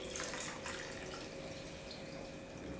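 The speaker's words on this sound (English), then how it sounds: "I am transferring the third coconut milk into the second coconut milk." Freshly extracted coconut milk is poured from one vessel into another batch while making a channa dal payasam, giving a soft, steady stream of liquid that runs unbroken throughout with no speech.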